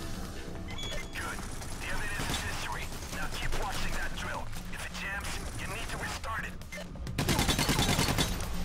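Gunfire in Payday: The Heist aimed at a fire extinguisher, a rapid dense burst of shots erupting near the end after a stretch of overlapping talk and game noise.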